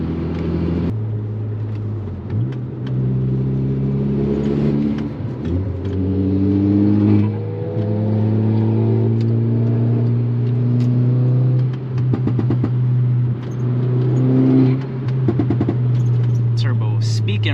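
Volkswagen Golf R with a turbo engine accelerating hard from inside the cabin, the engine note rising through successive gears in loud, close sweeps, with people talking over it.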